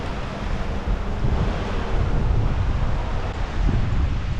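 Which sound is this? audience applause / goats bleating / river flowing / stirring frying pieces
river flowing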